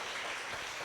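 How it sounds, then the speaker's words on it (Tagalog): A church congregation claps loudly for the Lord during a sermon, a brief dense burst of applause from many hands filling the room. "Pwede ba masang malakas na palakpak para sa ating Panginoon?"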